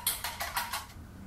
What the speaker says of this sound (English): so I'm just gonna whisk